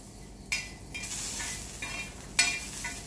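Cumin seeds roast in a pan over low gas while a spoon stirs them, producing soft scraping and a couple of sharp metallic clinks over a faint sizzle, with no talk.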